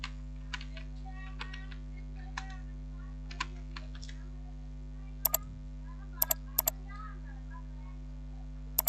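Keys tapped on a computer keyboard while entering text in a photo editor, a loose scatter of quiet clicks with a few sharper, louder taps toward the end over a steady low hum.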